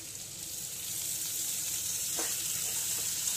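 Lightly boiled home-grown potatoes hitting a hot pan of oil, a steady soft sizzle and hiss with a few faint clinks, no talking.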